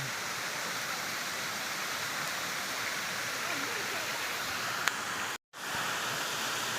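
Dense, continuous roar of rushing water from Tabag Falls, a very tall waterfall in a forest, broad and steady, with a brief cutout near the end.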